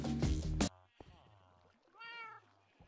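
A few short cat meows in the video game Minecraft, spaced apart and fairly clear, after a brief loud burst of game noise at the start.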